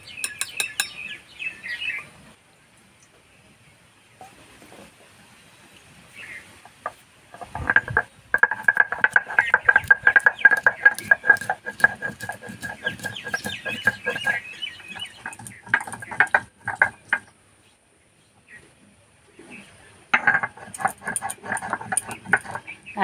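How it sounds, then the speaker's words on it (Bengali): Nutmeg pieces, cardamom, cinnamon, cloves and black pepper are ground together on a stone, giving rhythmic scraping and grinding strokes in bursts separated by pauses, close and clear. "এখানে নিয়েছি জায়ফলের টুকরো, এলাচ, দারচিনি, লবঙ্গ আর গোলমরিচ সব একসঙ্গে বেটে নেব।"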